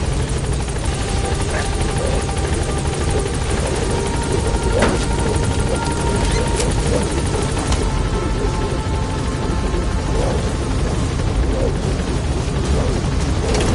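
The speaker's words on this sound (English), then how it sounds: "Board the chopper when you're ready." A helicopter in the video game Metal Gear Solid V drones loudly and continuously with a constant rotor throb, joined by occasional muffled booms and pops.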